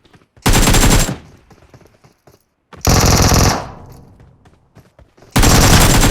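Three loud bursts of rapid automatic gunfire in a video game, each lasting about half a second to a second, separated by short quiet gaps with faint background noise.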